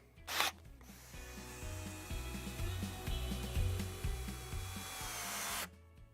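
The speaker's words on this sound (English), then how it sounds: "Let's try the Craftsman and see how this does." A Craftsman cordless drill bores into a wood butcher block, a steady close motor whine with a grinding, rubbing bite that runs for about five seconds after a short knock and then stops.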